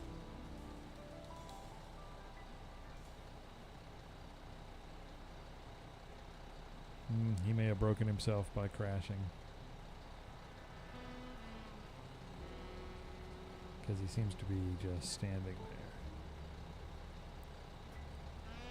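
In a video game, a tow truck sounds two short bursts of loud beeping separated by a quieter stretch, with someone talking over the engine hum throughout.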